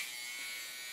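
A small battery-powered nail buffing tool, used to apply glass frit, hums with a thin, steady high-pitched buzz, close and quiet, running continuously without a break.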